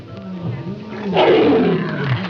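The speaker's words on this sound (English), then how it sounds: "Says here, when a lion gets mad, he riffles up." A lion roars angrily, a loud, rumbling, sustained growl that swells midway and continues to the end, close and alone without speech.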